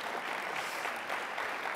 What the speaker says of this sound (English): So give us a round of applause for that.